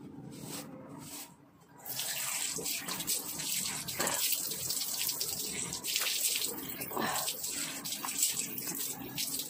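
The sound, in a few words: washing face with icy cold water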